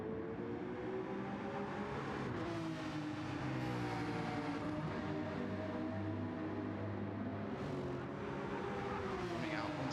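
Engine of a McLaren GT race car on the St Croix circuit in a sim racing game, a steady sustained drone with shifting pitch through a long looping right-hander, continuous and moderately loud throughout.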